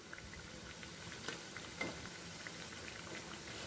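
Vadas deep frying in a kadhai of oil on a medium flame make a faint, continuous bubbling sizzle with a few soft pops scattered through it.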